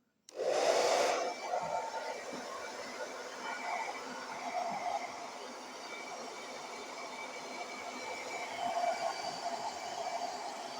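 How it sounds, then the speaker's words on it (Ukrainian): A hair dryer switches on with a loud burst of airflow, then settles into a steady whooshing hum that fluctuates slightly as it is moved around while drying paint. "якщо немає бажання чекати, можна просушити це феном."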